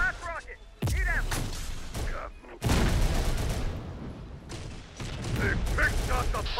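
Heavy rocket launches and explosive booms in the Terminator: Dark Fate Defiance video game, two sharp, loud blasts followed by rumbling battle noise, with voices talking in between.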